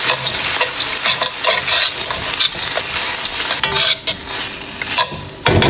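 Vegetables stir-fried for shrimp fried rice after scallion and ginger, a steady loud sizzle with a spatula scraping and clattering against the pan in uneven strokes.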